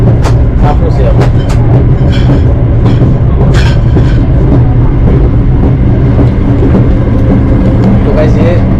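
Interior rumble of a high-speed bullet train running in Uzbekistan: a loud, continuous low roar with faint clicks, heard from inside the carriage while people talk over it.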